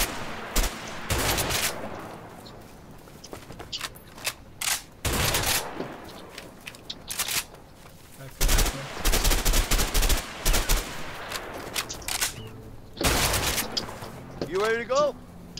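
Shooting practice at a range in the game A Way Out: scattered single gunshots, some sharp and close, others in quick pairs, spaced irregularly over a quiet background, with a brief tonal chirp near the end and voices heard between shots.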